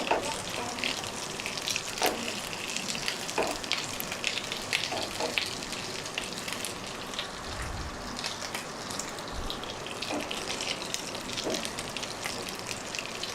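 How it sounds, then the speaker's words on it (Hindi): Pasanda meat pieces lightly frying in a pan, a soft steady sizzle and crackle with scattered pops, quiet and close, with no talk. "इस तरह हम इनको हल्का सा फ्राई कर लेंगे कि इनका कलर चेंज हो जाए।"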